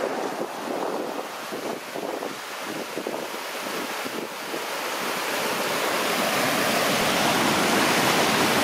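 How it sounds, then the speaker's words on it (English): Water rushing into a box culvert inlet and flowing under a road beside an erosion-control site in San Marcos, Texas, a steady broadband roar that grows louder and fuller over the clip, with a wind-like hiss throughout. "watch all this water cross under the road here."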